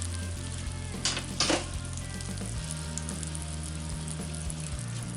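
Two pats of butter melt in a hot skillet with a steady close sizzle and hiss, broken by a couple of brief louder spatters and a background motor hum.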